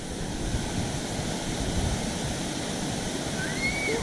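Awao Falls in Monkayo, Davao de Oro, Mindanao, pours with a steady, dense roar of rushing water close by, loud and unbroken throughout with no voices.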